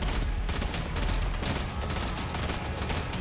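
A small laser beam weapon fires continuously in the Destiny video game, a dense, unbroken rattle of rapid shots that stays loud and steady throughout.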